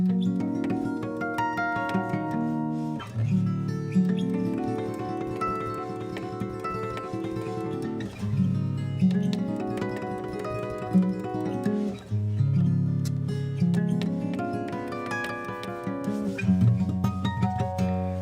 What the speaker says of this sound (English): There's also advanced techniques like cascading harp harmonics, which sound like this.